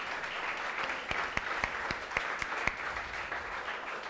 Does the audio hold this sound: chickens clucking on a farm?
no